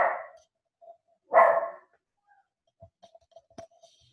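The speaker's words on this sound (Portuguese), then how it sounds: "Minha cachorrinha está latindo aqui, espera só um minutinho." A small female dog barking indoors, two sharp nearby barks about a second apart, followed by faint scattered ticks and light clatter.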